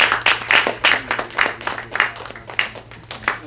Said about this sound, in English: give this brother a real round of applause